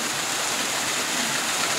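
A small mountain stream flows steadily beside hiking trail 6 on Mount Takao in late autumn, a constant broadband rush of running water heard up close without any talking.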